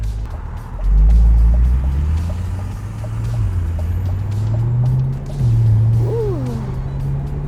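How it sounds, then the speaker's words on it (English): A low-slung car accelerates smoothly through all eight speeds of its automatic transmission, a steady low engine drone rising and settling with only subtle shift changes, close and continuous with no talk. "It's almost very seamless as it goes through all 8 speeds of the transmission."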